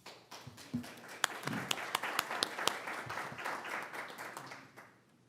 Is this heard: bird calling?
no